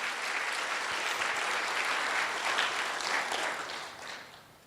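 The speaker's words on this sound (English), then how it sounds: "So can we give a big round of applause for all the volunteers here today?" An event audience gives sustained applause for volunteers, with dense, loud clapping from many hands that holds steady and then fades over the last second.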